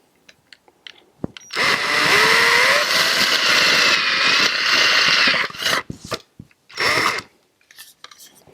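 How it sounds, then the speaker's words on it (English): A power drill bores holes through a plastic kayak fishing crate in a loud whine of about four seconds, followed by a shorter second burst, with quiet clicks and handling noises between. "the way I'm going to install these on the crate is just to drill through them like this"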